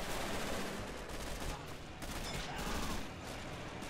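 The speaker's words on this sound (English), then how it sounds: "MG42 back here kicking in" MG42 machine gun fire in the war game Men of War Assault Squad 2 during a Battle of Berlin city defense, dense rapid bursts of gunfire over a noisy battle backdrop, moderately loud and continuous.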